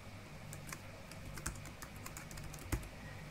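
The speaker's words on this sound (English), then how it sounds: "So if I type this," Quiet, close keystrokes tap out on a computer keyboard in an irregular run, with one sharper key press near the end.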